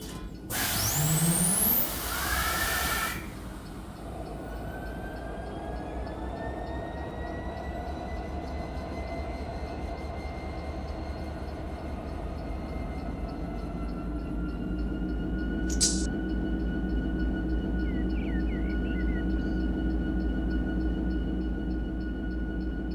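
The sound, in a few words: locomotive engine starting up in Run8 train simulator game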